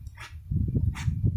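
A dog, a female out on a stroll, gives soft low woofs and huffing vocal bursts close by, with two brief higher yelps rising over the grumbling.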